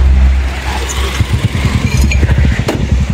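A motorcycle engine idles nearby with a steady low rumble and a few quick revs, loud and continuous throughout.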